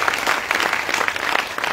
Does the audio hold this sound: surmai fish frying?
no